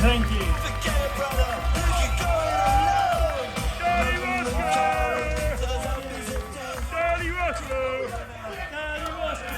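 A crowd at a For the Children protest rally cheers, whoops and claps in a loud, dense mass of voices, with excited shouts rising over the chatter across the whole stretch.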